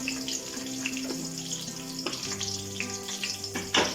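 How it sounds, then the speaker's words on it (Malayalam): Chana dal and urad dal fry in hot oil with crushed chilli in a pan for a colocasia stem thoran, a steady close sizzle and crackle with a few louder spits and pops near the end. "ഈ പരിപ്പും ഉഴുന്നും നന്നായിട്ട് ഫ്രൈ ആവണം"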